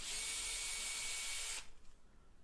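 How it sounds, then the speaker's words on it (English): A small power drill with a small bit whines steadily at high pitch for about a second and a half, drilling marker holes inside a cupboard, then stops, leaving faint room noise. "used a small drill bit to mark the areas where I want to drill the main holes"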